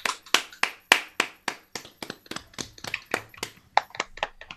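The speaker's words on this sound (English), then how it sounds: "And now let's clap for Rebecca." A small group claps in a loose, uneven burst of sharp hand slaps, steady for a few seconds and then tapering off.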